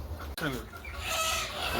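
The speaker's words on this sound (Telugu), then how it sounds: "ఇది మూడు నెలల కోళ్ళు" Three-month-old country chickens cluck and call close by, with a sharp click near the start and a steady low background hum, no talking.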